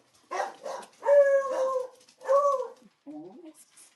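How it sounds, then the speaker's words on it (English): A dog gives several hoarse, raspy barks and yips close by, a few quick ones followed by longer drawn-out calls with a whimpering tail, loud and alone in a quiet room. "he barks like he's got a cold"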